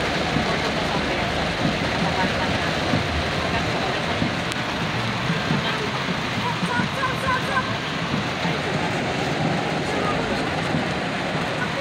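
Heavy flood water rushes steadily like a swollen river, a constant loud roar that fills the whole stretch without letting up.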